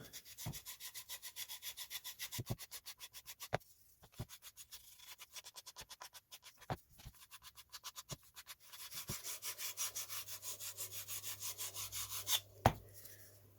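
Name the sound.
sanding the leading edge of a model airplane tail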